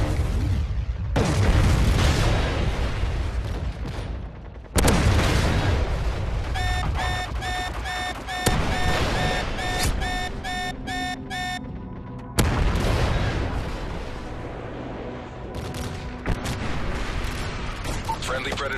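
Video game combat with an Osprey gunner providing air support: repeated loud booms and bursts of gunfire through most of the stretch, with a chirping alarm-like tone pulsing midway, and voice chatter mixed in.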